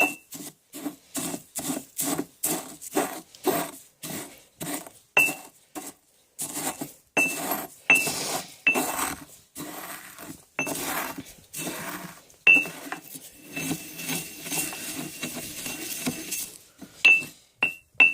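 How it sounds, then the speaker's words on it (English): Herbs are stirred and ground into protection powder in a bowl, producing a steady run of close, rhythmic scraping and clinking strokes, roughly one or two per second, with no talking over them. "you can stir it either way, or just grind it down if you want, so everything kind of becomes more powdered"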